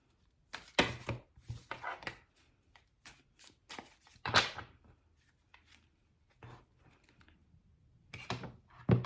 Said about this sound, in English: So I'm going to pull 3 tarot cards.